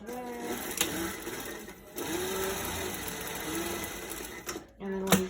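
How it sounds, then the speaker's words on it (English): A sewing machine runs stitches across fabric to make a face mask with elastic tucked into the corner, whirring close and steady with brief pauses and restarts. "So we'll just sew there."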